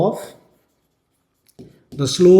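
A marker or chalk writes on a board during a Class 10 physics lesson on Ohm's law, a brief faint scratch between stretches of a man's close speech.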